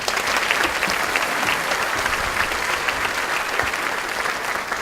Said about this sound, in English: Everybody, a big hand of applause for Mike.